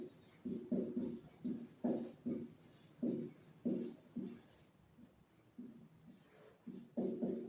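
A pen scratches across paper during a math lesson, with short, quiet, close strokes repeating in an uneven rhythm and brief pauses between words, with no talk.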